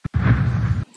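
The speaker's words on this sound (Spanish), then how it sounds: "este es cuando son explosiones" A single short, dull blast from a wireline perforating gun in oil and gas well work: a brief pop, then a heavy muffled boom lasting under a second before cutting off.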